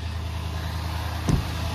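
A 2023 GMC Sierra 3500 diesel pickup runs at high idle in cold weather mode, a steady low droning hum with a single short thump near the end.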